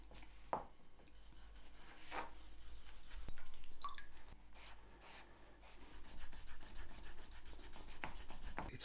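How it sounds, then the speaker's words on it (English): A tool rubs along the damp edge of a leather guitar strap in short, quiet strokes, and the scraping comes in close, uneven bursts. "you just rub the tool of your choice along the edge"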